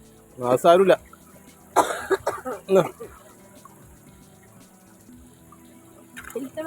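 A man in a short family drama coughs in harsh, throaty bouts: one burst, then a longer run of coughs, then another starting at the end, with quiet stretches between.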